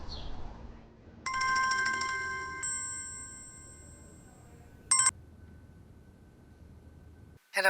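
A mobile phone ringtone sounds indoors in a drama scene, a bright electronic melody of sustained tones that shifts pitch, then stops, followed by a short chiming burst and quiet room tone.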